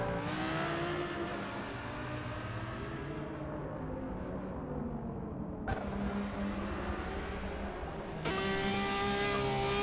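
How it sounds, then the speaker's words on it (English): Aston Martin race car engine in a modern GT racing video game, a loud, steady high-revving drone that climbs and shifts pitch continuously, with an abrupt cut and louder return near the end. "He's going to push his Aston Martin as hard as he can."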